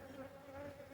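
Honeybees buzz around an open hive in January while robbing honey, a continuous faint drone with a steady hum and no voices.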